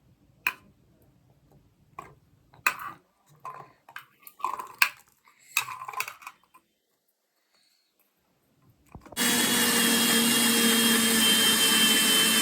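Mixer grinder running steadily at close range, grinding shallots, ginger and garlic into a paste for Chettinad fish fry, a loud continuous whir that starts abruptly after a few soft taps and clicks.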